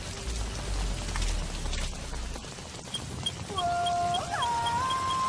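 Steady rain falling in Metal Gear Solid 5, a broad continuous hiss of drops with a low rumble early on, joined near the end by rising and sliding tonal game sounds.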